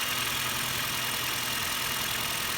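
A 2007 Honda Fit engine idles just after a cold start, a steady close-up mechanical hum with a faint rhythmic rattle or knock running continuously underneath, no voices.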